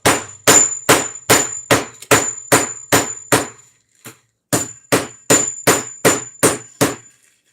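A meat tenderizer hammers food in a run of about a dozen loud, sharp, evenly spaced strikes with a metallic ring, then pauses briefly before a second steady burst of blows.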